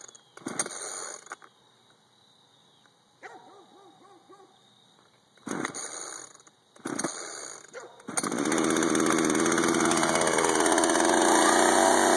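A few sharp pull-start rattles, then a chainsaw engine catches and runs loud and steady, close by, with brief voices between pulls.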